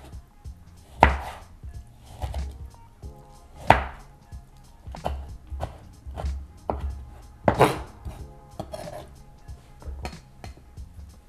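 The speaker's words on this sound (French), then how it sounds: "Et il nous reste à hacher notre citron confit." A knife chops preserved lemon on a board in an uneven series of sharp thuds, roughly one to two per second, some louder than others, close and clear with quiet gaps between and no talking.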